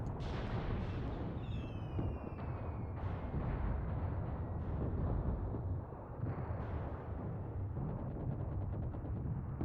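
Heavy artillery fire in the Mius Front war game, a sustained barrage of booming blasts and rumble filling the whole stretch loudly, with a few faint whistling tones early on and no talk.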